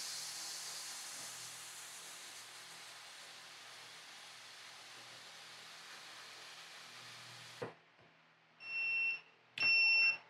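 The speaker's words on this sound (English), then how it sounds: "when it comes to a stop, it starts flashing at you and making that horrible beeping noise" An appliance hisses steadily as it runs and then stops. Two loud, clear electronic beeps follow close together, close up, with no talking.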